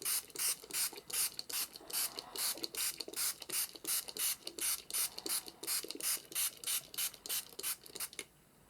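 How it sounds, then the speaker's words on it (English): Rapid, repeated hissing bursts from a handheld spray bottle misting water, a steady pumping rhythm of about three squirts per second, close and fairly loud with no talking. "there is spray going everywhere, just as a heads up"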